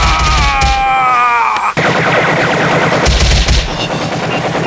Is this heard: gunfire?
yes